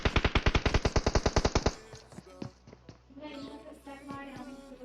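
Gunfire in the video game PUBG Mobile: a rapid automatic burst of about fifteen sharp, evenly spaced shots lasting nearly two seconds, then quieter scattered sounds and game tones with talk.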